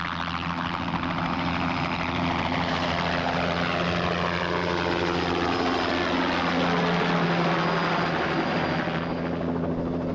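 A helicopter in flight, its rotor thudding in a steady, even pulse over a constant engine whine, loud and close as if heard from the cabin, with no voices.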